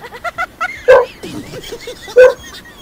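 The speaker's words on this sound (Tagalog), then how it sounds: "may tao po siguro kaya may tahol ng aso." A dog barks repeatedly at close range, with a few small yips between two louder, sharper barks.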